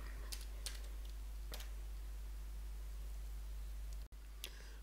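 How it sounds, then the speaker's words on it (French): Fingers typing a new password on a computer keyboard, a handful of soft, sparse key clicks over a low steady hum, close and alone. "maintenant il me suffit de taper le nouveau mot de passe. C'est plus facile. Et je tape deux fois."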